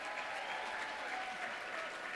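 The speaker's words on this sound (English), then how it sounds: "Can we give them one more round of applause?" An audience at a school district event honoring educators gives a sustained round of applause. The dense, even clapping from a large crowd holds steady throughout without a break.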